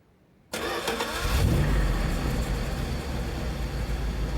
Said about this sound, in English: Is that a car? Yeah, it's a car.